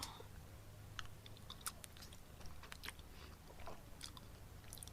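Mac and cheese being chewed close to the mic during a mukbang meal, soft wet smacking and light crunchy bites repeating irregularly at low volume.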